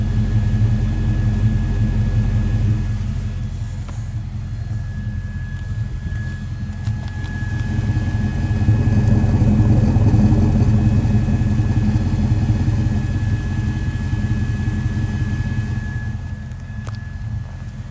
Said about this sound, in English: So there's a good listen to the Mustang GT at idle, 1997 model, convertible with the 5-speed manual.